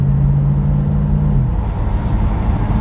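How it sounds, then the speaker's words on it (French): A 2007 Ford Mustang GT's V8 engine pulls with a deep, loud, continuous rumble, and its steady tone eases slightly partway through. No one speaks. "Vous vous régalez avec le bruit du V8?"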